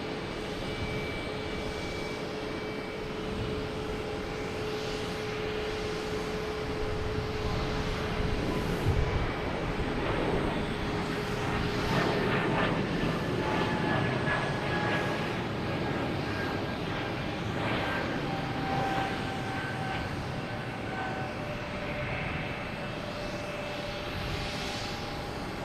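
Jet airplanes roar on takeoff from runway 27 at Boston Logan Airport at night, a steady, distant rumble swelling and fading over a long stretch, with faint whining tones drifting across it.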